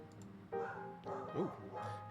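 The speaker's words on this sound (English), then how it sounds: "You might hear my dog is in the background" A pet dog barks and yips a few times in the background indoors, faint and muffled, with a person's voice around it.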